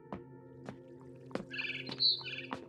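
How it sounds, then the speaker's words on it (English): Bright, high barn swallow chirps in short bursts from a video game, What Remains of Edith Finch, over a steady low electronic hum, with a few sharp clicks spaced through the background. "Then I heard chirping outside my window."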